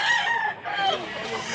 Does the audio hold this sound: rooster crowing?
yes